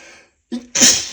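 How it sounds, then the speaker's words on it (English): One sneeze, close and loud, with a short sharp intake of breath before a bright explosive burst. "Gotta sneeze."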